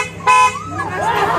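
PIAA car horn installed on a Toyota Corolla gives a short, bright toot followed by a wavering tone that bends upward, loud and close.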